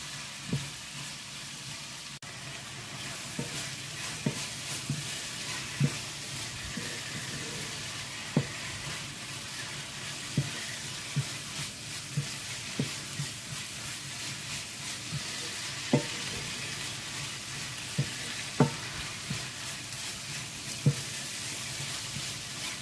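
Onions fry with a pinch of salt in a pan for a home-style chicken curry, giving a steady soft sizzle throughout with scattered scraping and tapping clicks from a utensil stirring, close and without talk.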